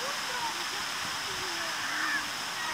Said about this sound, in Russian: вода сюда ветром выносится